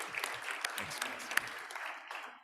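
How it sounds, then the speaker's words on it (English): Brief round of applause from a conference audience thanking the speakers of a panel on private sector water impacts, a dense even patter of many hands at moderate distance, tapering off at the end. "Let's have a quick round of applause"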